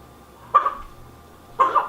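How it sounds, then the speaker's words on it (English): A small dog gives two short, sharp barks about a second apart, fairly close, against a quiet indoor background. "Now the little one gonna start barking."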